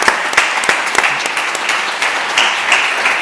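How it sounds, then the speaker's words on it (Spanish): Applause from an audience at a One Health conference, loud and fairly brief, with a few sharp individual claps over a steady wash of clapping. "merecéis un aplauso"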